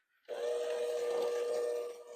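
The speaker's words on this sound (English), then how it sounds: "I'm just using a mixing bowl and my hand mixer" A hand mixer whirs in a mixing bowl of wet ingredients for apple bread, a steady high motor whine starting abruptly and running evenly for about two seconds.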